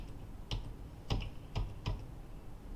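Computer keyboard typing, a handful of distinct key clicks spaced about half a second apart against a quiet background.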